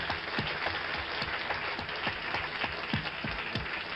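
Studio audience applause on a late-night talk show, a steady dense wash of many hands clapping continuously, heard at a distance and fairly even in level throughout.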